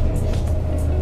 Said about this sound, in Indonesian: Ini jalan jelek, ini jalan agak gelombang nih, tapi nggak kerasa ini naik mobil ini.